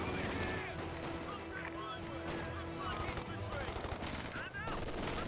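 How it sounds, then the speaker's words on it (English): Panzer Grenadier squads open fire in a Company of Heroes 2 battle, dense rattling rifle and machine-gun bursts mixed with other battlefield sounds, continuous and fairly loud under a narrating voice. "Grenadiers now fire away, getting some good flank hits there on that assault section."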